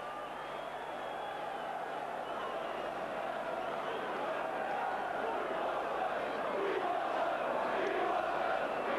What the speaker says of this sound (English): And we want 7, shout the crowd.